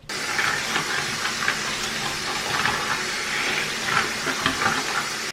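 Water drains down a bathroom sink after a baking soda and vinegar unclogging treatment, a steady close hissing rush with faint gurgles throughout and no talking.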